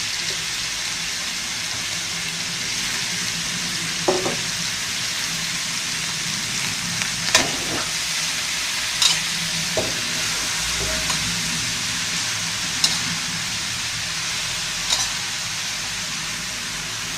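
Cabbage stir-fried with marinated pork in a pan makes a continuous hissing sizzle and steam, with scattered scrapes and clanks of the spatula stirring, close and steady, and no speech.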